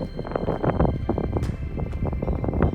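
Gusty wind buffets the microphone in a steady low rumble, with bursts of louder thumping and rustle throughout.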